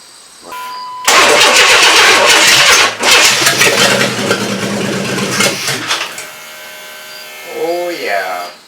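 A 1994 Chevrolet S10 with a newly installed engine, just after a throttle body repair, cranks and fires up abruptly, then runs loud and rough before the idle eases off, with a brief voice near the end.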